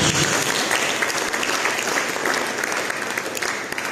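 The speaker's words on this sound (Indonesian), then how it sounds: "Mari berikan tepuk tangan bagi Yesus." A church congregation claps loudly and steadily for Jesus during a worship service, a dense, continuous wash of applause filling the space throughout.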